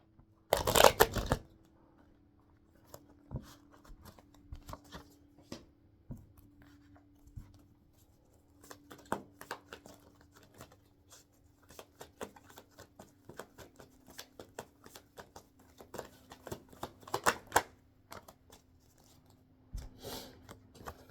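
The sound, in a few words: shuffling and drawing an affirmation card from a deck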